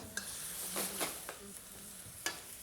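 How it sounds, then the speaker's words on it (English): Tofu braising in a pan of broth with soy sauce and sesame oil, giving a steady soft sizzle with a few brief stirring scrapes and clatters, close up and without talk. "And then put them all in and let it braise for a few seconds."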